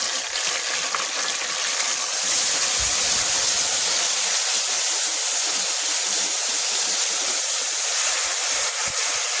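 Garlic sizzles and hisses in hot oil for an Indian tadka while a chicken pulao is being made. The steady, bright frying sound stays constant and close, with no talking.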